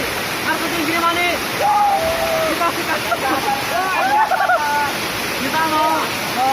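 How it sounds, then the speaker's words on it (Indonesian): Girimanik waterfall in Slogohimo, Wonogiri, Indonesia, pours in a steady, loud broadband rush that fills the whole clip, with voices talking over the water. "Guys, kita udah sampai di air terjun Girimani."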